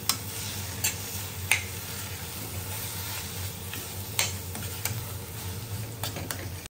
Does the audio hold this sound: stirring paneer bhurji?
yes